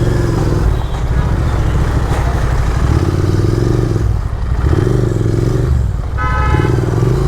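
A motorcycle engine, referred to as a GT, drones steadily while riding at speed, loud and close, with repeated rising and falling revs and a brief horn toot near the end.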